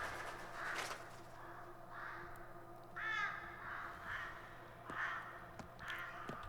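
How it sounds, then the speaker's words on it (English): Crows cawing in the Pathologic 2 video game, a series of harsh calls at about one-second intervals, moderately loud over a steady low ambient hum with no talk. "What is it with crows?"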